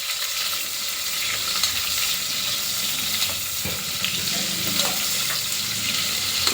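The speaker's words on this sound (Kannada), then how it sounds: "ಸ್ವಲ್ಪ ಫ್ರೈ ಆಗಲಿ," Onions frying in a pan for chicken biryani give a steady, close, even sizzle that runs without a break from start to end.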